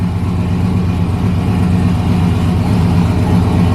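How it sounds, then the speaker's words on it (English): A turbocharged LS V8 in an S10 idles loud and close, a steady low rumble with a slightly lumpy, pulsing rhythm and no revving. "The idle's starting to come down a little bit."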